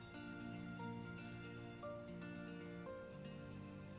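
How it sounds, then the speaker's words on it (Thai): Water trickling and dripping through sprouting mung beans as the soaking water is drained, a faint steady patter of drops over a soft background hum. "ลดน้ำให้น้ำไหลลงสัหน่อยนะคะ เหมือนน้ำไหลผ่านค่ะ"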